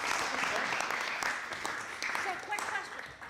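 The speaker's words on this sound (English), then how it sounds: "I think we all around applause to Steve for coming up with this idea." A meeting audience applauds steadily throughout, a dense wash of many hands clapping close by, with scattered voices audible beneath the clapping.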